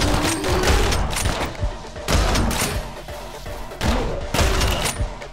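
Dense bursts of gunfire from the video game Anger Foot fill the stretch, loud and close, coming in several rapid volleys with short gaps between them and no talk over it.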